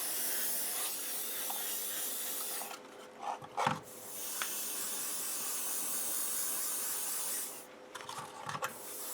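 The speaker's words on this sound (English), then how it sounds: "So make sure you give them a good gloss coat of" Tamiya Clear gloss coat sprayed from a can onto scale model tank tracks, a steady close hiss that cuts out briefly twice between passes.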